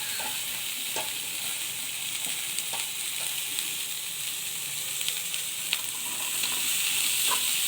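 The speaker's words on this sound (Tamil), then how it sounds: "இப்போது கட் பண்ணி வச்சுட்டு அவரைக்காவை நான் சேர்க்குறேன்." Broad beans sautéing in a pan make a continuous loud sizzle with scattered clicks of a spoon stirring, steady and close throughout.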